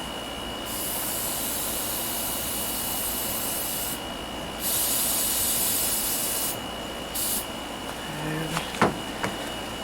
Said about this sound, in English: Spray it with air.